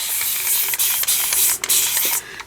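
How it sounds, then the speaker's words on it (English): A spray bottle of yellow-orange ink such as spiced marmalade spritzes over paper in a series of close, hissing bursts, with a few brief pauses between squeezes. "Alright, let's spray."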